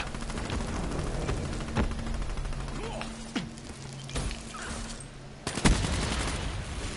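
Gunfire in the video game Call of Duty: Black Ops 3, with several sharp shots and a couple of loud bursts against a busy game backdrop, and faint talk in places.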